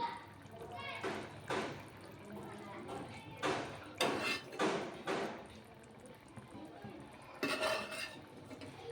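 Egg masala curry is stirred in a metal pan, with a few bursts of spoon scraping and clinking against the pan separated by quiet gaps, fairly close and moderately loud.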